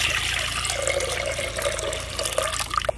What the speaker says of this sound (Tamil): பருப்பு வேகிற அளவுக்கு தண்ணி ஊற்றிங்க